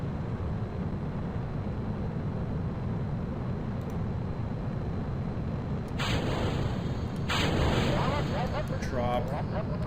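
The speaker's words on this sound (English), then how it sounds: "Let's start all of the engines here." Rocket engines roar in a steady low rumble in Kerbal Space Program, growing louder partway through, with someone talking over it.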